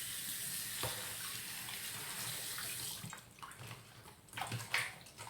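Pieces of pork rinsed under running tap water in a kitchen sink, a steady near splash and gush broken by a few handling knocks and sloshes toward the end.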